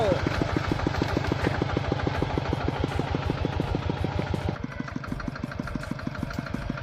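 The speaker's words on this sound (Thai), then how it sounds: "โอ้จนป่านนี้ถึงเห็นรถไถนะคะ เนี่ย มาแล้ว" A tractor engine chugs in a steady, rapid thump nearby as it approaches across a field, running loud throughout and easing slightly toward the end.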